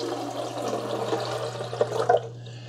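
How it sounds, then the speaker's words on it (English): Vinegar pours into the water tank of a Keurig K-Slim + Iced coffee maker with a steady, close liquid trickle and a few brief splashy drips near the end, over a low hum. "You're going to pour that right into the water tank."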